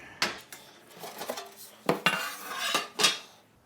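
Heavy cast iron parts of a vintage 1900s Orbon stove being unpacked and handled, several sharp metallic clanks and knocks spaced irregularly, close and fairly quiet, with no talking.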